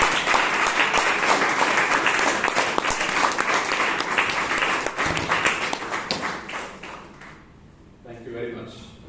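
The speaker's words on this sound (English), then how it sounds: "Let's give them a round of applause." A meeting audience at a Toastmasters club claps to welcome guests, dense applause that holds steady and then tapers and thins out, with a brief voice emerging at the very end.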